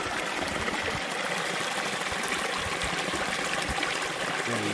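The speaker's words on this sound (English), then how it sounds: "I'll fill this water bottle up too." A water bottle being filled from a clear mountain stream in Idaho, a steady gurgling trickle and splash, close and continuous without talk.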